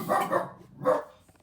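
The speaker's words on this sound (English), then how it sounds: "That's our dog." A pet dog barks twice at close range, two short, loud bursts about half a second apart, with no voices over them.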